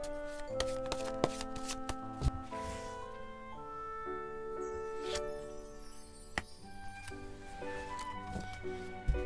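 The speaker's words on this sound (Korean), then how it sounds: "1번님을 위한 조언 카드를 한 장 더 뽑아볼게요" Tarot cards are shuffled and drawn by hand, giving a steady soft riffle broken by crisp snaps and taps of single cards. Gentle ringing music plays in the background, and no one speaks.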